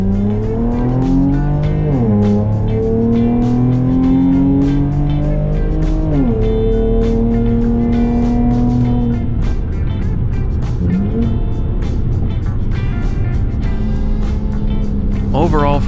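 Chevrolet Camaro fitted with a Rev9 FlowMaxx axle-back exhaust revs loudly and continuously, its engine tone rising and falling in several sweeps with a steady droning exhaust note throughout.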